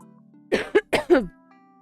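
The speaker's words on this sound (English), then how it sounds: "I need to cough!" A short burst of four harsh coughs in quick succession, close and loud, then quiet.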